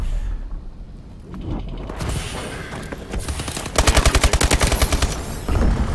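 Video game gunfire in a Hardpoint match, starting with scattered shots, then a rapid automatic burst of evenly spaced, loud cracks, followed by another heavy volley at the end.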